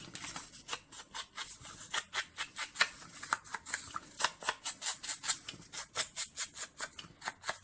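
Repeated crisp snips of scissors or a craft cutter slicing through card stock for a handmade Easter card, a steady run of close, sharp cuts at an even rhythm with no voices.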